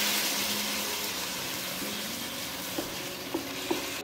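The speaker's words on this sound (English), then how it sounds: "Now I'm just going to add the lobster and saute it lightly" Lobster sautéing lightly in a pan, a soft continuous sizzle at low level with a few faint clinks of stirring near the end.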